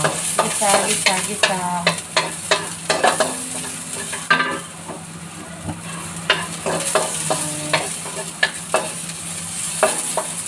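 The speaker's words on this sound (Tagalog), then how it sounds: "Gigisa na natin sa sibuyas sa bawang." Onion and garlic sautéing in a home kitchen pan, with repeated scraping stir strokes over a steady sizzle, close and clear, no talking.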